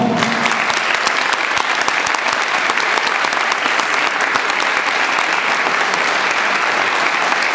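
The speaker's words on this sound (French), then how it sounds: "Je leur demanderai de faire un tonnerre d'applaudissements" A crowd at a wedding fair in Noyelles-Godault gives Patricia and Patrice a dense, sustained round of applause, an even roar of many hands clapping close by with no talk on top.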